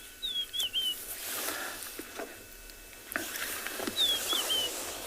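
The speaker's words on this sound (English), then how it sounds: "I can hear a very nice melody of a rufous-napped lark." A rufous-napped lark sings short whistled phrases twice, once near the start and again after four seconds, over a soft crackling ambience on the open plains during a sunrise safari.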